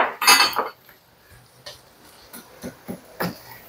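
A spoon scrapes and clinks against a pan while ground meat and aromatics for spaghetti sauce are stirred and sautéed, opening with a loud clatter, then scattered knocks close by.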